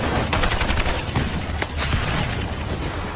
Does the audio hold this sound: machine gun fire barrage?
yes